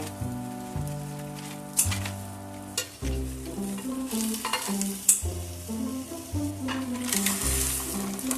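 Ingredients for Hokkien chai choy, including beans, sizzle in hot oil in a pan, a close, bright frying crackle broken by repeated scraping and clattering stirs, with low tonal background sounds.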